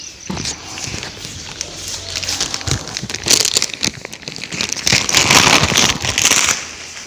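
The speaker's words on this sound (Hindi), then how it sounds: "चूल्हे में आग जला दी है" Wood fire crackling inside a clay chulha cooking stove set for porridge, with scattered sharp pops and crinkly snaps close by, growing busier toward the end.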